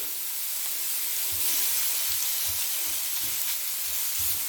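Pork sizzles steadily in a frying pan after a dusting of spicy cayenne, a dense, close frying hiss broken by soft low thumps of stirring, with no voices.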